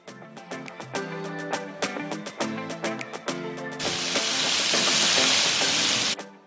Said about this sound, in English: Add 1/2 of the sliced steak, season with 1/2 teaspoon of the fajita seasoning, and sear, stirring occasionally until browned